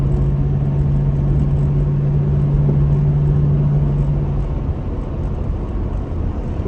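Steady cabin rumble comes from a 1963 Daimler 2.5 V8 car on the road, a continuous low engine drone with a sustained humming tone that fades partway through.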